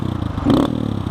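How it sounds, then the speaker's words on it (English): Honda Grom motorcycle fitted with a Yoshimura RS9 aftermarket exhaust, idling with a steady, throbbing low putter that swells briefly in the middle before settling back, close and fairly loud. "It's got a Yoshimura RS9 exhaust on it, which is really nice"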